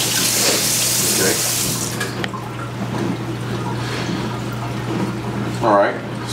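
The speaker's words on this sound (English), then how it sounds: "I'll rinse off my hands real quick." A kitchen faucet runs steadily as someone rinses their hands while preparing a smoked Texas prime rib roast, a continuous close wash of water that fades partway through, with a brief voice near the end.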